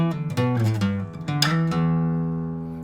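Guitar fill from a song, a short run of bright plucked notes that settles into a sustained ringing chord and fades slowly, played alone and close.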